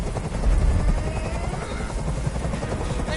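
Helicopter hovering in the video game Detroit: Become Human, a loud continuous rotor thrum with a low pulsing beat that fills the whole stretch without pause.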